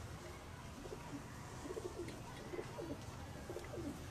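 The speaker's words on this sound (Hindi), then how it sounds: "ये बहुत अच्छा मेरा कबूतर है।" Soft, repeated cooing of a domestic pigeon of a red-eyed flying breed, faint and low against steady background noise.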